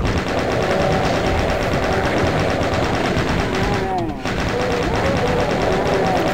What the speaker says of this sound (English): I'm going to need the chain gun